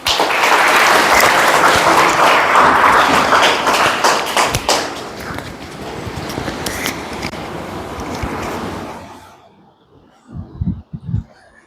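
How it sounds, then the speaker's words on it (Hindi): An audience claps loudly in a hall to welcome a speaker, dense sustained applause that slowly thins out and fades, followed by a few scattered taps and bumps near a microphone. "सर के लिए बुलाएं, तालियां बजाएं"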